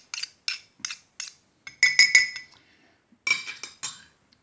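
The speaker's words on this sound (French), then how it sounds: "maintenant je mets une cuillère rase de moutarde" A metal spoon clinks sharply against a jar or bowl while a level spoonful of mustard goes into a vinaigrette for raw endive-stuffed tomatoes, with a run of separate light taps followed by denser clustered clatter.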